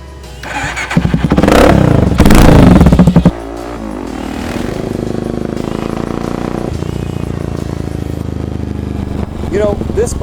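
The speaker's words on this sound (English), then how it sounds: "Let's fire this sucker up and let's see what she's got." A Motorstar Cafe 400 cafe racer motorcycle, also sold as the Mash Roadstar 400, cranks and fires up with a loud burst of revs, then settles into a steady, close idle that runs on to the end.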